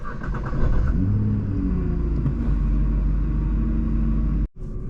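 A Nissan GT-R pulls away with a steady, loud low engine rumble and a rising rev early on, then a brief dropout near the end before the drone resumes.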